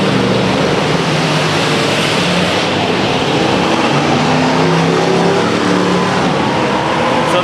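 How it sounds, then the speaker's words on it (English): Race cars roaring around a speedway oval during a 100-lap enduro, a loud continuous engine drone with no break, close and dominant. "Oh boy, we're racing."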